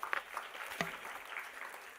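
Thin, faint applause from an audience at a university day celebration, a small scattering of claps with a few louder individual hits, quiet and distant throughout.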